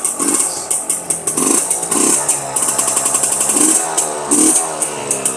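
A two-stroke motorcycle engine runs after a kick start, loud and close, with a choppy, pulsing putter and uneven revs throughout and no voices.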